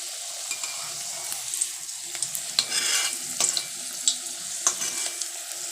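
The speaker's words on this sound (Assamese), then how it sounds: "মই এখিনি একদম লাহে লাহে ডিপ ফ্ৰাই কৰিম একদম জুইটো কম ৰাখিছো" Cabbage paratha deep fries slowly in refined oil in a kadai over low heat, giving a soft steady bubbling sizzle with scattered sharp crackles and pops, close and without speech.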